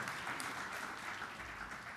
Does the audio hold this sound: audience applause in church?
yes